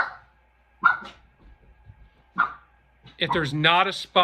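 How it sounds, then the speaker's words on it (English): Pet dogs bark indoors, a few separate sharp barks, then a longer whiny, yelping vocalization near the end, fairly close and loud with no talking. "My dogs are getting crazy"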